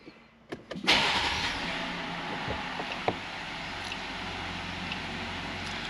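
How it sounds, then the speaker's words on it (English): A Jeep Gladiator or Wrangler engine cranks briefly and catches, then settles into a steady low idle, heard close up with no talk. "now let's actually start the vehicle"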